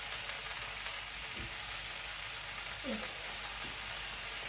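Food sizzling steadily in a pan, a constant close hiss and crackle throughout with a couple of faint knocks and a brief soft voice-like sound partway through.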